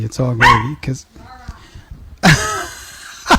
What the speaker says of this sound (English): if y'all heard that, that was my dog